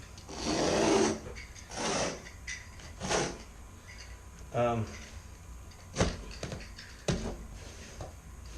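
Several separate rasping cuts through a taped carpet pad seam, each a short scratchy tearing burst, close by with quiet pauses between.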